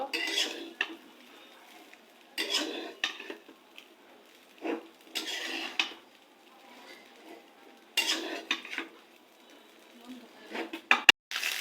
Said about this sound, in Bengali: ভালো করে এখন নাড়াচাড়া দিয়ে ডিমের সাথে ভাতের সাথে একদম মিক্স করব